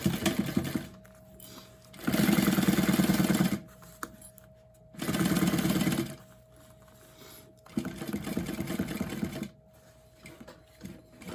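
Sewing machine stitching over fabric while sewing a bag, running in three or four loud steady bursts of rapid mechanical whirring, separated by short quiet pauses.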